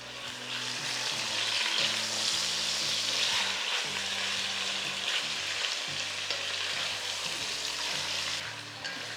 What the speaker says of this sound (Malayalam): ചിക്കൻ ഹൈ ഫ്ലെയിമിലിട്ട് ഇളക്കിക്കൊണ്ടിരിക്കുക നിറം മാറുന്നവരെ.